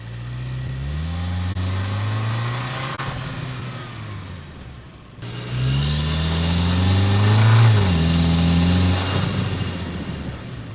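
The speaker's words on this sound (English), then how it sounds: "You can actually hear the turbo now." A turbocharged Toyota Land Cruiser engine, miked under the hood, revs up and down repeatedly, rising and falling in pitch, with a higher turbo whine surfacing during the stronger pulls; close and loud.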